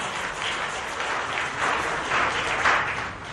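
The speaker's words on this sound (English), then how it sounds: "let's give a round of applause to all of you here" Steady audience applause at an evening birthday gathering, a dense wash of many hands clapping at even loudness that swells slightly toward the end, with no voices over it.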